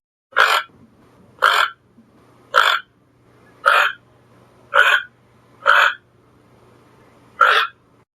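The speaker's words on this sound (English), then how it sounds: "toucan" A toucan gives a series of seven short, hoarse croaking calls at a steady, slightly uneven pace, each a separate burst, loud and close with no other sounds around them.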